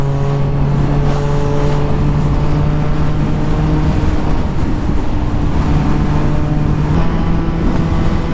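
A Yamaha MT09 motorcycle pulls hard in third gear during a roll-on acceleration, a loud, sustained engine drone with steady tonal hum, heard close up under heavy wind rush.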